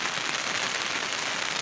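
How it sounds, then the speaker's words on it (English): Heavy rain pours in a dense, continuous hiss and patter during outdoor fish cleaning, steady and close around the listener with no speech. "it's raining heavily"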